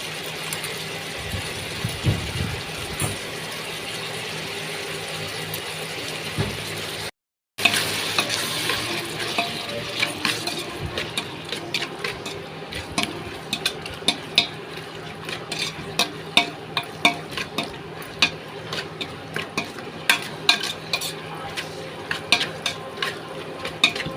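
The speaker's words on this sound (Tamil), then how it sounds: "இது வதங்கட்டும் இது நல்லா மசியணும்" Ingredients for chicken curry sautéing in a pan with salt, a steady sizzle broken after a short gap by frequent spoon scrapes and clanks against the pan as the mixture is stirred.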